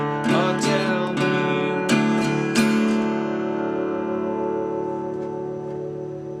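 An acoustic guitar is strummed with firm downstrokes through a blues phrase from a song, playing four or five sharp chord attacks that leave ringing strings fading out, with no voice.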